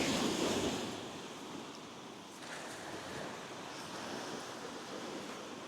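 Surf rolling onto Lansallos Beach, a quiet cove in Cornwall, heard as a steady broadband wash of waves with wind buffeting the microphone, louder in the first second and then an even, continuous roar with no voices.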